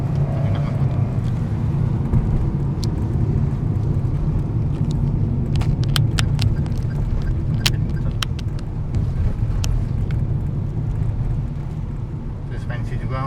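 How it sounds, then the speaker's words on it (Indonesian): A Toyota All New Avanza 2021 with its 1500 cc dual VVT-i engine drives along, giving a steady low engine and road rumble with faint clicks and knocks from the cabin. "Nah, ini mesin sangat responsif dengan 1500 cc."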